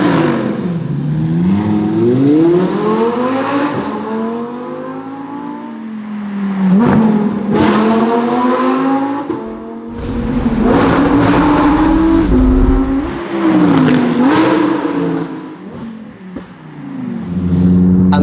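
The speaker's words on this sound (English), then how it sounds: "Give her a little rev." An Italian supercar in sport mode revs hard with its exhaust valves open through a stock exhaust, giving several loud rising and falling blips close by. The engine drops back between bursts, and no voices are heard.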